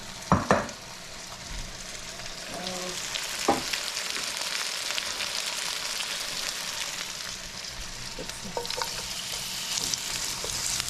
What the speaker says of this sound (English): I'm gonna saute some of this